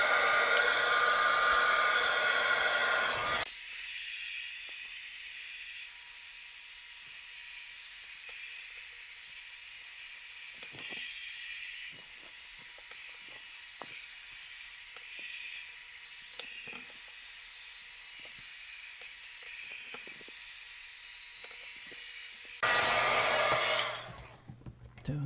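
A heat gun set on low blows a steady, loud hiss of air while shrinking heat shrink tubing over a homemade battery pack built from tabbed cells, with brief louder stretches at the start and end.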